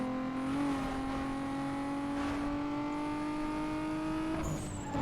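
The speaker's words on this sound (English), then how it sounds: "I do not very much like the sounds that turbos make. All of this whistling, ugh." Turbocharged car in the racing game Need for Speed: Most Wanted, a steady engine drone with a rising high whistle layered above it, continuous and loud throughout with no talking.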